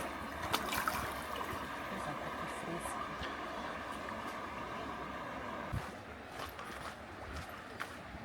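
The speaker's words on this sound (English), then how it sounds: "under the bridge here, you can see there's like a waterfall" A waterfall rushing beneath a bridge where salmon struggle upstream gives a steady, broad wash of falling water at moderate distance, with a few faint knocks and sounds of people nearby.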